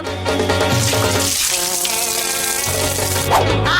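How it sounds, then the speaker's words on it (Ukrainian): Water pours and splashes steadily out of an aquarium, a continuous gushing flow that briefly thins in the middle before resuming. "А тепер беремо акваріум і виливаємо всю воду."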